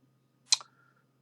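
A single crisp computer mouse click sounds up close in an otherwise quiet room.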